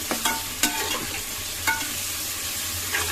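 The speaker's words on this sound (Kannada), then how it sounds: "ಈರುಳ್ಳಿ ಎಲ್ಲವೂ ಕೂಡ ಗೋಲ್ಡನ್ ಕಲರ್ ಫ್ರೈ ಆಗಿದೆ" Onions frying in oil until golden, a continuous sizzle broken by a few sharp spatula scrapes and stirring clacks near the start and middle, close and without talk.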